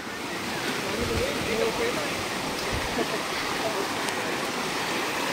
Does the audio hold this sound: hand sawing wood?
no